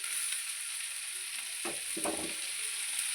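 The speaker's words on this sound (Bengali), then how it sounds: "এবার আমি শাকগুলো দিয়ে দিচ্ছি" Chopped bete greens hit hot oil with ginger in a frying pan, giving a couple of soft thuds over a constant, close sizzling hiss.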